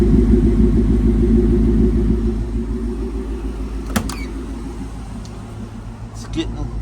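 A 1972 Ford F250 with a swapped-in Ford Coyote V8 idles steadily with a low, even rumble, close by, while a person talks over it.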